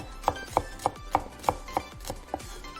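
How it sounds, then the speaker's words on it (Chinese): Garlic cloves, peeled, chopped with a knife on a board: eight crisp, evenly spaced chops at a steady rhythm, close and clear, with no voices. "利用等待的时间来切蒜头吧，脱衣后切碎"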